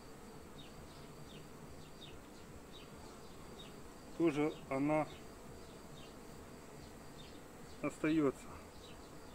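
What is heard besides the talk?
honeybees buzzing around an opened beehive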